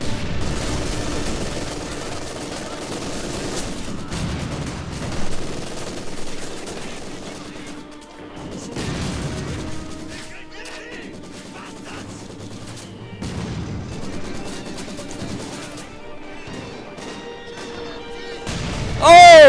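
Gunfire and mortar explosions from a World War II style war video game clan match, with bursts of machine-gun fire and heavy blasts scattered throughout and voices talking over the action.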